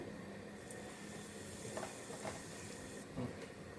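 Asafoetida dropped into hot oil in a pan for tempering, with a steady soft sizzle throughout and a few faint stirring clinks.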